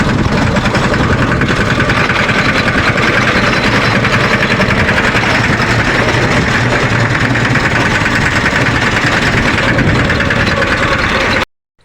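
A farm tractor's engine runs loud and close on the way out to fetch pipe, a steady unbroken rumble with rattling vibration that cuts off abruptly at the end.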